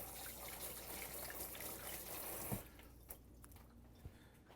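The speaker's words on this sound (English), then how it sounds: "Quick, brief rinse." Kitchen tap water runs in a quick, brief rinse at the sink, a steady close hiss lasting about two and a half seconds before cutting off, followed by a couple of small clunks.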